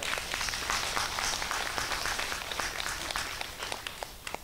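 An audience applauds at a Buddhist Dharma talk during a year-end assembly in a Buddhist hall, a dense wash of many hands clapping steadily, fairly loud, then thinning out toward the end.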